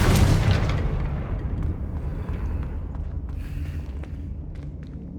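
A Confringo fire spell in Hogwarts Legacy detonates with a loud, booming blast, then trails into a long rumbling decay under scattered crackles and small pops.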